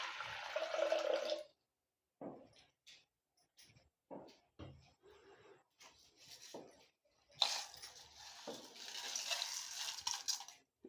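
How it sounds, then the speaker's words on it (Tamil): Water is poured into a pressure cooker on a lit stove: a brief splashing pour at the start, then scattered quiet clinks and handling noises, with a second rushing burst near the end. "ஒரு குக்கர் வச்சு அதில் தண்ணி சேர்த்துக்கலாம்."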